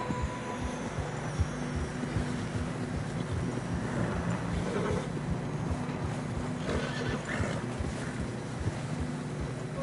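Horses whinny and snort over a steady patter of hooves on fresh snow, with wind blowing in the background throughout, in the video game Red Dead Redemption 2.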